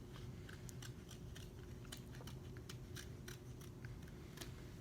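Scissors snip through a printed paper portrait in a rapid series of crisp, close cuts, steady and fairly quiet with no talking.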